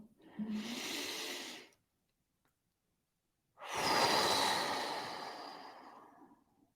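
Two deep, airy breaths taken during a mindful breathing exercise, close to the mic and alone. A shorter breath is followed by a few seconds of silence, then a longer, fuller breath that slowly fades out.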